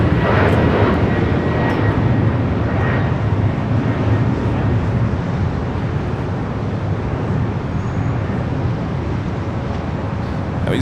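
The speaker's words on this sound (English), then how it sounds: "That was United flight heading to Dulles, 737 MAX 9." A United Airlines Boeing 737 MAX 9 takes off at Los Angeles International Airport bound for Dulles, a loud sustained broadband jet roar that stays steady throughout, heard from nearby.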